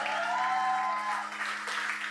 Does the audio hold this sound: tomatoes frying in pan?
no